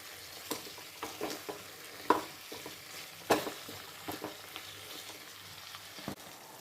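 Eggplant sautéing in hot oil for Andhra-style pachadi, a soft steady sizzle with occasional scraping stirs, quiet and without talk.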